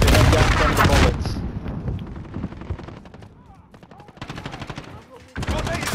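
Gunfire in the video game Call of Duty, a loud opening burst followed by sustained rapid automatic fire at mid distance, then another heavy burst near the end, with players talking over it.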